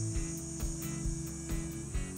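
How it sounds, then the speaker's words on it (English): Steady, loud cicada buzzing fills the clip, a continuous high drone with a faint pulsing rhythm and some low rumble beneath. "Cicadas. They've been crazy loud all summer long."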